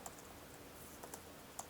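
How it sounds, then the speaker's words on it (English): Typing on a computer keyboard: light, scattered keystroke clicks, quiet and close, with a few slightly louder taps and no voices. "Oh yes, typing."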